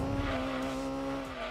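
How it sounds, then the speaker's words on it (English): A race car engine screams at high, steady revs in the video game Gran Turismo 2, a sustained loud whine with slight pitch shifts, no voices. "I love how crazy this thing revs."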